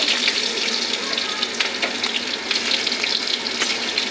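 Chopped onions frying in a wok with whole spices, a loud, continuous close-up sizzle with a watery crackle and occasional stirring scrapes, steady throughout with no voices.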